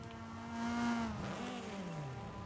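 A rally car engine in Forza Horizon 5 revs and whines, rising then dropping in pitch as it accelerates and shifts, steady and fairly loud without any talking.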